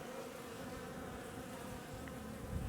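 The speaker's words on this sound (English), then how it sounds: "this is the first time that bees have used this opening" Honeybees buzz around a beehive entrance on a sunny south-facing side in winter, a continuous soft drone of many insects close by.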